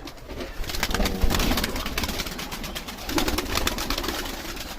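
Pigeons coo steadily in low, throaty murmurs, several birds overlapping close by amid rustling and fluttering.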